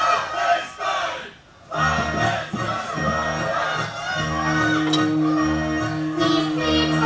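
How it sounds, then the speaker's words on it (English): A huge crowd gathered at the Dome of the Rock in Jerusalem roars and chants, with a dense wash of many voices swelling and surging for several seconds and sustained tonal calls rising above the din. "I'm here at the Dome of the Rock, where a huge crowd has gathered."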